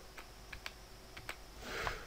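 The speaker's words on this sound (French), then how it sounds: "faire flèche du bas sur votre clavier pour les faire défiler les unes après les autres" Sparse, faint clicks from a computer keyboard as the down arrow key is pressed a handful of times at uneven intervals in a quiet room.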